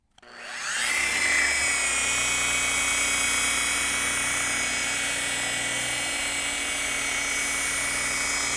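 Flex rotary polisher buffing oxidation off a boat hull, a loud continuous high-pitched whine that spins up over the first second and holds steady throughout.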